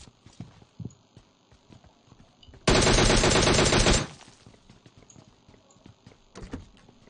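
A single loud, sustained burst of rapid automatic gunfire lasting just over a second, rising sharply above quieter background game noise in a battle royale shooter.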